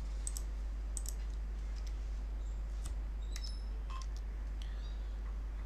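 Faint, sparse mouse clicks from a computer running Busy accounting software, scattered over several seconds above a steady low electrical hum, with no talking.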